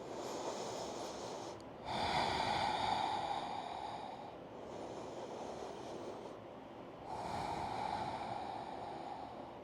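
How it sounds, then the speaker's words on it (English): Slow, deep breaths during a beginner yoga stretch for the neck and shoulders rise and fall in long, airy cycles, about four in a row. They are close and hushed, with no talking. "Deep breaths here."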